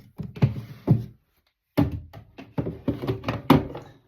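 An object is put back into a drawer and the drawer is pushed shut, giving a series of close, hollow wooden thunks and knocks with a short pause between them.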